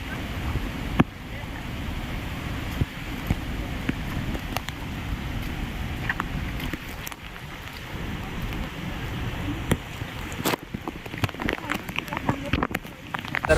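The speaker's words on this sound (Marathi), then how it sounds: "तर फायनली आम्ही जवळ पोचलेलो आहेत धबधब्याच्या" Steady broadband rush of a waterfall near Jawhar, Maharashtra, heard from some distance as a continuous roar with occasional clicks and bumps close by.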